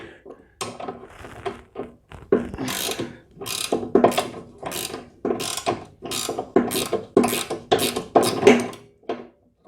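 A ratchet wrench clicks in rapid bursts while loosening a bolt on an MTD-built Bolens snow blower. The bursts are close and loud, with metallic ratcheting repeated many times and brief pauses between strokes.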